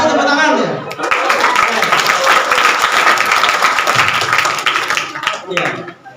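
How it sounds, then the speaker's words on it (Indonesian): Audience applause at a student orientation event at an Indonesian college hall, loud sustained clapping from a crowd that swells quickly and fades toward the end, with voices mixed in. "terima kasih tepuk tangan ya"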